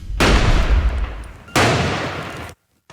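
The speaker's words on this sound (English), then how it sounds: "You just heard gunshots ringing out this morning in the Edison neighborhood in Kalamazoo." Two loud, sharp gunshot blasts ring out in the Edison neighborhood of Kalamazoo, each followed by a long booming decay, about a second and a half apart, then sudden silence.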